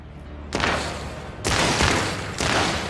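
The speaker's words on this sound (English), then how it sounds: "we're hearing shooting down here" Gunfire in the Rogue Trader video game, heard as three loud broadband bursts of shooting arriving at roughly one-second intervals over a steady background din, each burst sustained rather than a single crack.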